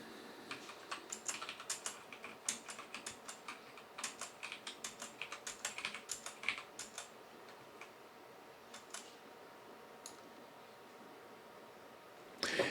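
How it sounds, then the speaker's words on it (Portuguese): Ten values are typed into a C program on a computer keyboard as a quick, fairly quiet run of key clicks, which thins to a few isolated taps before a final louder clack. "Temos que digitar 10 valores quaisquer."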